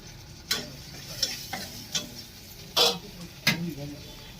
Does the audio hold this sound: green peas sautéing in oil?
yes